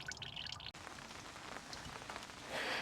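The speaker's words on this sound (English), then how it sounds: "it's just started to rain, which is obviously less than ideal" Light rain begins falling outdoors at a traditional cider pressing, soft scattered drops and patter that briefly cut out and then swell into a denser hiss toward the end, faint overall.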